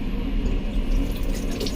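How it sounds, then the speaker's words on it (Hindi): Sensor-activated washbasin tap aboard a Haramain high-speed train runs a steady stream of water into the sink, a close, continuous hiss and splash with no talking. "अगर आपको वॉश बेसिन से पानी की ज़रूरत है तो सिर्फ आप हाथ इसके नीचे ऐसा रखिए"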